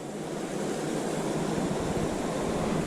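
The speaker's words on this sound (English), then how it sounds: "this is more like a mountain stream or a mountain rushing creek" Water rushes steadily in a raging mountain stream, the West Carson River, as a loud, unbroken broadband roar that stays even throughout with no voices.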